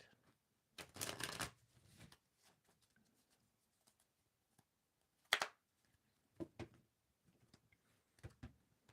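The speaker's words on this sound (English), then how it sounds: "I'm going to riffle shuffle it 3 times, and then I will start your shuffle." Tarot cards riffle shuffled at close range, heard as several quick papery bursts with short pauses between them in a quiet room.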